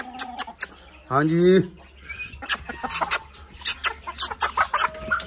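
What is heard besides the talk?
Polish chickens clucking in pet house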